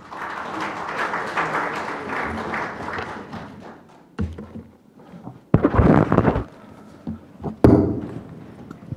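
A crowd claps in a broad, steady wash of applause that fades out, followed by a few scattered thumps and louder bursts of clapping.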